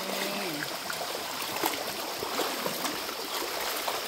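A swollen brown creek after a typhoon rushes with a continuous broadband roar of flowing water, steady and fairly close, with no voices.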